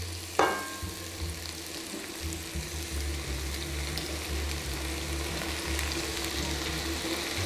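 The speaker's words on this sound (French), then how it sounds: "Je laisse mijoter comme ça pendant 10 à 15 minutes." Ratatouille vegetables cook in a pot with a soft, even frying crackle over a low background hum, one brief clink at the start.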